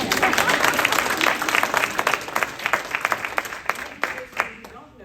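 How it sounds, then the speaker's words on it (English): An audience at an awards event applauds, a dense steady wash of many hands clapping that gradually thins and fades over a few seconds. "You can clap for that."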